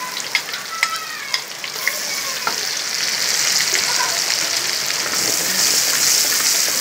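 Pounded chili paste of candlenut, shrimp paste and shallots hits water spinach being stir-fried, for a brothy tumis kangkung: a few sharp clatters of stirring, then a loud, steady hiss of frying that swells and holds, with no talking.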